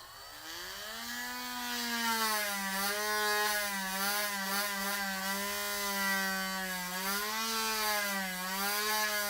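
A drill bit bores through a plastic toy part with a steady, close, humming whine that wavers slightly in pitch over about nine seconds, with no talk.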